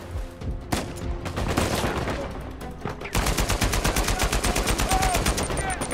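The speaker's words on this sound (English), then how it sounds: "I seriously just miss all those shots." Gunfire in the video game Uncharted 4: A Thief's End, first scattered shots and then a loud, fast run of rapid automatic fire that fills the second half.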